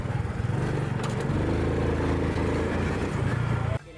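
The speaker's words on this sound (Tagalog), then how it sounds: "At nang sinubukan na niyang paandarin ang kanyang motor" A motorcycle engine running on pyrogas fuel made from plastic idles nearby with a steady, buzzy putter, then cuts off abruptly near the end.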